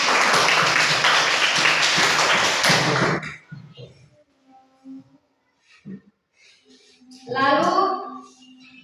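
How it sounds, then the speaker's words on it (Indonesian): Children clap together in a classroom, a dense burst of hand claps lasting about three seconds, then it stops abruptly and a teacher's voice follows. "Coba tepuk tangan."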